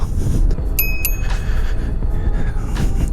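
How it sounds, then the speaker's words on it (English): Two quick bright metallic rings of a commuter road bike's bell, up close, over steady low rumbling traffic noise. "it's got a bell."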